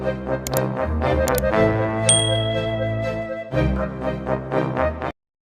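A bright notification-style ding rings out over a short, steady musical jingle that cuts off abruptly at the end.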